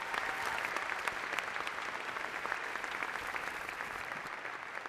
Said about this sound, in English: we should give them a sincere thank you and round of applause